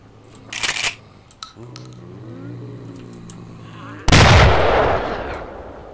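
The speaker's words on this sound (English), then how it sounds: "The shotgun is not having the desired effect." Shotgun blasts in the zombie survival game Project Zomboid: a sharp burst early on, then a sustained loud roaring blast near the end over a steady game hum, with no talk.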